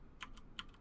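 A few computer keyboard keys struck in separate presses, a pair of crisp clicks early and another sharper pair later, close and quiet against a low background hum.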